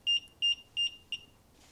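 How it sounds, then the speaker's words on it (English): A garage door safety sensor receiver gives four short, high electronic beeps in an even rhythm when its beam is blocked. The beeps are close and loud against a quiet background. "it blinks and beeps when you block it"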